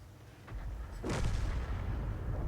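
GW Panther self-propelled artillery gun firing in a tank combat video game: a single sharp boom about a second in, followed by a sustained low rumble, with no voices.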